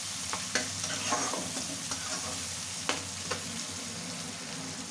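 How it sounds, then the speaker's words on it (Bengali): Sliced green chillies frying in hot oil until light brown, a continuous bright sizzle with occasional sharp spatula scrapes against the pan, close and steady, no speech. "ফালি করে রাখা কাঁচা ঝাল বা কাঁচামরিচ, এগুলোকে দিয়ে ভালো করে একটু হালকা ব্রাউন কালার করে ভেজে নেব।"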